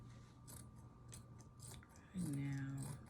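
A few soft, close snips of scissors cutting through cloth, ending with a brief low hum.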